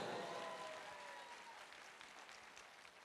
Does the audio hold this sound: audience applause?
yes